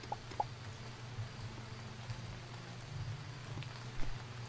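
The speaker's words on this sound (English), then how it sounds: "It's raining." Faint, steady rainfall in the video game Starbound with scattered soft drops under a low hum, quiet and continuous throughout.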